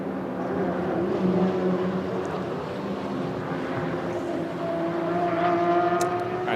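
GT4 race cars circulate at the Red Bull Ring, a steady, loud engine roar with overlapping tonal whines that rise in pitch as cars accelerate nearby, continuous and unbroken.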